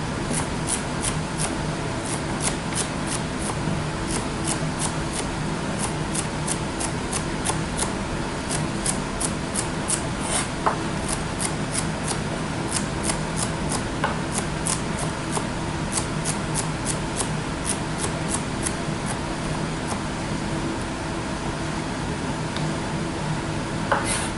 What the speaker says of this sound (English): You take a group of your celery stalks and you start cutting.